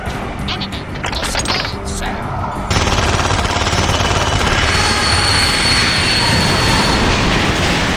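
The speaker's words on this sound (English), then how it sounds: "The second Darkling comes with a Gatling gun." Gatling gun firing in The Darkness, a PS3 video game, a loud continuous rattling burst that cuts in abruptly and holds steady, dense and mechanical, under faint background game noise.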